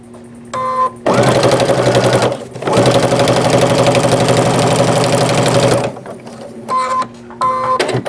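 A sewing machine stitches through eight layers of shirting fabric in loud, close, fast rhythmic bursts, with short pauses between runs and brief quieter whirring at the start and end.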